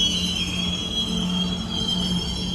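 A train rolls past on a New Orleans street along River Road, its wheels squealing in a loud, sustained high-pitched screech over a low rumble, close by.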